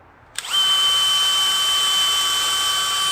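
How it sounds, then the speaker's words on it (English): Power drill pre-drilling into wooden legs for a rabbit hutch, a brief click and then a loud, steady, high-pitched motor whine held close up to the end. "I always pre-drill everything."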